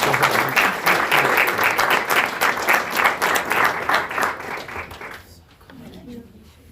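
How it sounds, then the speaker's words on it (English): At a school board of education meeting, the room applauds a student with a lively round of clapping from a small crowd. The clapping carries on for about five seconds before fading into quiet room tone, with voices faintly underneath. "Please give her a round of applause."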